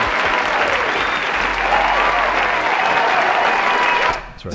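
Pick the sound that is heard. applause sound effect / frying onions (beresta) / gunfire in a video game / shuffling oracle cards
applause sound effect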